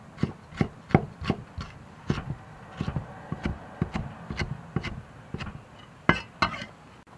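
A knife chops ribs and pork belly on a board in a home kitchen, giving sharp, uneven thuds and knocks at close range, about two per second with brief pauses.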